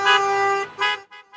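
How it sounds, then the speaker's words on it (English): Car horns honk from a line of supporters' cars driving down a Long Island street at a Trump rally: a long loud blast, then shorter toots trailing off, with no talk. "drove their cars down the street one after the other, waving flags and honking their horns"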